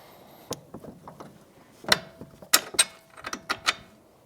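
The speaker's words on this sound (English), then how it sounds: "we can use this pry bar to move our strut around so we can get our bottom bolt in." A pry bar levering a front strut on a 2007-2015 Mazda CX-9 into place, a series of sharp metallic clanks and ratcheting clicks, close by, with quiet gaps between.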